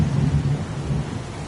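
Steady rain pouring in the video game Heavy Rain, with a dense low rumble under continuous broadband hiss that holds at an even, fairly loud level for the whole stretch.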